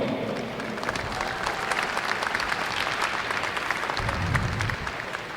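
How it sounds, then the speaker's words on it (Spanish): An audience at a national potato congress applauds to welcome a Bayer speaker onstage, a steady wash of many hands clapping at moderate volume that continues unbroken to the end. "Recibámoslo con un fuerte aplauso"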